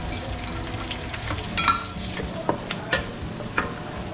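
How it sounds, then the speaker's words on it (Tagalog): Onions brown in a pan for adobo, with a quiet steady sizzle underneath and several distinct scraping clicks of a utensil stirring them. "Pina-brown ko muna itong aking sibuyas para mabango siya"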